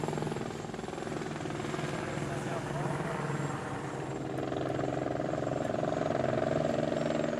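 Record TV news helicopter flying above a region of 365 islands, its steady, loud rotor and engine drone filling the whole passage from close range with faint muffled voices underneath.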